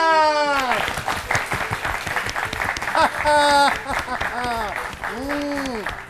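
Classroom-style applause for a correct quiz answer in a children's fun-learning show, bursts of clapping mixed with bright, sliding cartoon-like musical tones and sound effects, loud and up close.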